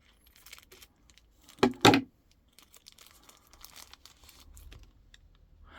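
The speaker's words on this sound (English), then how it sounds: "No, we'll open it with a pair of scissors." Scissors cut open the packaging of a Cycplus electric tyre pump. A short, loud burst of tearing and crinkling plastic stands out midway, with faint rustles and handling noises before and after in a quiet room.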